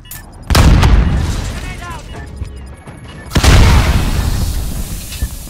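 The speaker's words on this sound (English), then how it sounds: "Allied cruise missile away." Cruise missile launch explosions in Call of Duty: Modern Warfare 2019 multiplayer: two heavy, loud booms a few seconds apart, each followed by a long rumbling tail.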